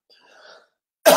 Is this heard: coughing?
yes